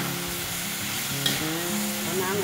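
Chicken, eggplant and holy basil stir-fried in a pan give off a steady, close sizzle and frying crackle, with the scrape and clatter of stirring throughout and no talking.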